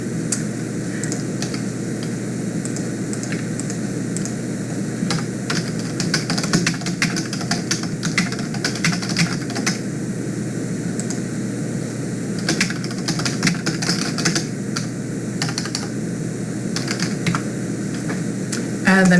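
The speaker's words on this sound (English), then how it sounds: "you want to go ahead and type in the name of the conference" Steady clicking of computer keyboard typing, close and continuous over a low background hum, with no one talking.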